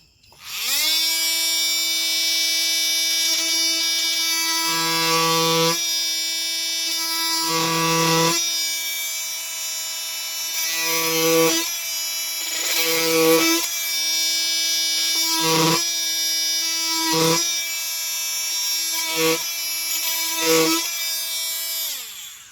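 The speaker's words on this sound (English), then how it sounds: "The multi-tool." Cordless Milwaukee M12 Fuel multi-tool whining steadily at high pitch through the whole stretch, with a series of short bursts where the pitch dips and roughens as it loads up, close and loud with no talking.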